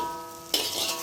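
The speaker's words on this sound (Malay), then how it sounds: "sekarang kita nak tumis chutney kelapa" Coconut chutney with green chili and garlic hits a hot pan and bursts into a loud, close sizzle that keeps frying steadily after a quieter, humming start.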